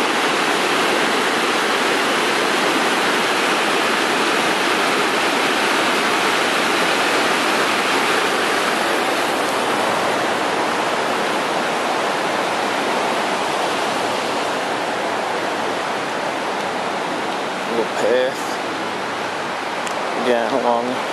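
The Purgatoire River near Trinidad, Colorado, rushes in a continuous loud, even roar of flowing water heard from a riverside path, steady throughout with a few faint knocks near the end.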